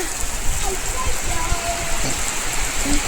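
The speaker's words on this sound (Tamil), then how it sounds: "சரியான மழை" Steady downpour in Valparai, a loud, unbroken hiss of heavy rain close at hand with low rumbling beneath and a voice briefly heard over it.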